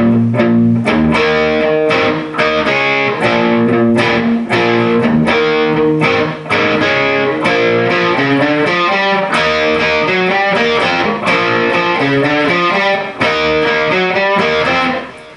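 Distorted electric guitar plays the verse riff of a song, using double stops on the fifth and fourth strings. The chunky rhythmic chords are loud and steady, with no voices.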